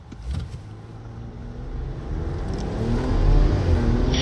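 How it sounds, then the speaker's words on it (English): A 2025 RAM 1500 pickup with a 3.0L twin-turbo Hurricane inline-six and 392 rear gearing accelerating, a low engine drone that rises steadily in pitch and loudness from inside the cab. "Let's see how this truck puts that power down with that 392 rear."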